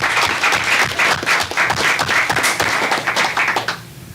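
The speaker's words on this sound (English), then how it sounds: "let's go ahead and give her a round of applause for this outstanding" Applause at a school board meeting, a roomful of people clapping steadily and densely at close range for several seconds, then fading out abruptly.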